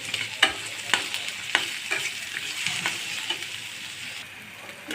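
Chopped onion fries in soybean oil for a chicken and potato bhuna, giving a steady close sizzle broken by sharp spatula scrapes and stirring clicks against the pan.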